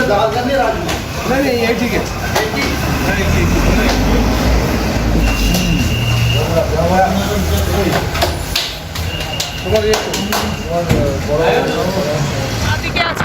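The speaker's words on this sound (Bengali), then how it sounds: "rail station পানিয়াহাল rail station" A train at Paniahal railway station gives a continuous loud rumble with rail clatter and occasional squeals, while people talk nearby throughout.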